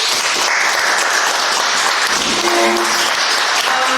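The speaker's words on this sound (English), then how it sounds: "Let's give them a round of applause." Steady, full applause from the audience at a mayoral debate in the Grange Hall in Hot Springs, Montana, sustained and fairly loud throughout with an even wash of clapping and some brief indistinct vocal sounds mixed in.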